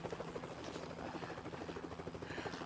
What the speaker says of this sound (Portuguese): Tá cheio de helicópteros.